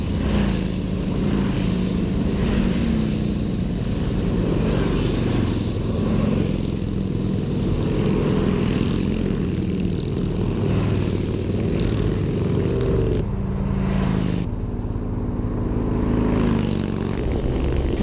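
A classic Indian motorcycle engine runs steadily and loudly up close, with a deep thrumming throb that briefly shifts tone near the end.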